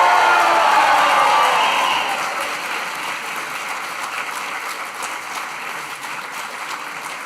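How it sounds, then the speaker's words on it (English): Graduation audience at a 2025 engineering ceremony cheering and applauding the graduating class, a loud burst of claps and shouts that gradually tapers to a quieter sustained ovation. "a big cheer for the graduating class of 2025"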